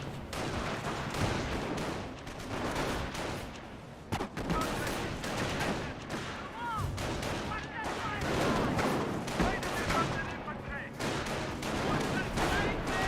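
Dense gunfire from Panzer Grenadier squads in the World War II strategy game Company of Heroes, with rapid rifle and machine-gun bursts layered over battlefield noise and voices, continuous and loud throughout.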